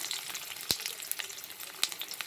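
Mustard oil heating in a pan for frying onions, giving a soft, steady sizzle with a couple of sharp pops, close and fairly quiet, no voices.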